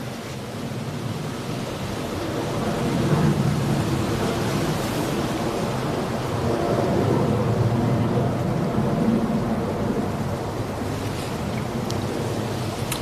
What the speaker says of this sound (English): EasyJet A319 going to Prague